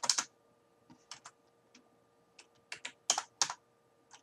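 Keystrokes on a computer keyboard while entering a show interface trunk command on a Cisco IOS switch, a sparse series of crisp clicks in small bursts, close and fairly quiet, with no talking.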